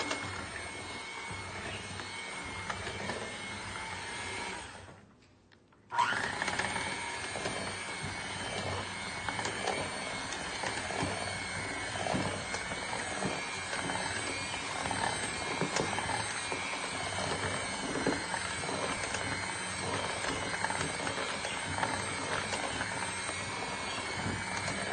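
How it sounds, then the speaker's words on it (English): Pancake batter made from scratch with a quarter cup of oil, mixed by a steady whirring mixer that runs continuously, briefly cuts out, then starts again and keeps droning. "And we're getting ready to mix now."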